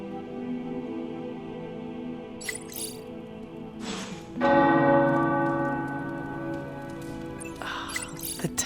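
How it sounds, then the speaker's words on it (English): Tower church bells ring out in Marvel's Midnight Suns, a sustained layered peal with strong overtones that swells louder about midway and keeps resonating, with no talking over it. "The tower bells are ringing."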